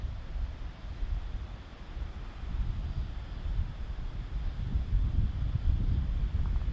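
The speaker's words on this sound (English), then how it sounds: "A bit windy up here." Steady wind buffets the microphone in low, rumbling gusts that swell and ease, with no voices.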